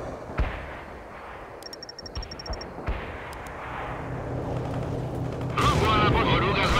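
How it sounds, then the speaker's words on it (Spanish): Missile fire and explosions in the World in Conflict video game during a river-crossing battle with light armor: sharp booms and thuds, a rising launch roar and a loud blast near the end, with voices talking among them. "¡Misil fijado, fuego!"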